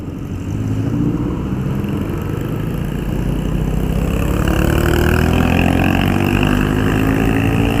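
A 2020 Yamaha Aerox 155 scooter rides over an uneven road surface, its engine droning loudly and steadily with a rising pitch and constant road and wind noise throughout, with no voices.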